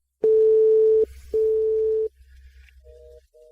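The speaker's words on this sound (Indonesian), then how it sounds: "Aku telepon King King dulu" A telephone ringback tone plays as a steady electronic beep. Two long, loud pulses are separated by a short pause, then fainter, higher tones follow, with no speech.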